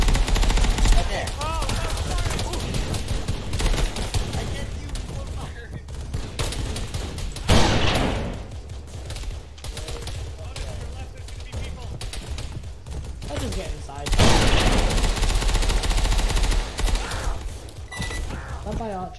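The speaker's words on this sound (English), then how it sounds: "Pumping an entire round, an entire mag into some guy's fucking head." Video game machine gun fire empties a whole magazine in sustained loud bursts, rapid automatic shots hammering in long runs with brief pauses between them.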